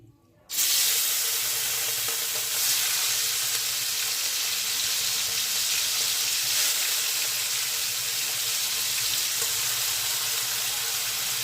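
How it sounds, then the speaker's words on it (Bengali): Salted prawns dropped into hot oil, setting off a sudden loud, steady hissing sizzle after a brief silent moment that continues evenly and close, with no speech. "নুন মাখিয়ে রাখা চিংড়ি মাছটা এবার ভেজে নেওয়ার জন্য দিয়ে দিচ্ছি।"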